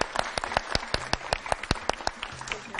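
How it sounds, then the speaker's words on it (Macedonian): A studio audience at a school program in Skopje claps for a guest. Distinct, fairly sharp claps come at a brisk, uneven rhythm, suggesting a smaller group clapping rather than a dense roar. "најсилен аплауз за нашиот гостин"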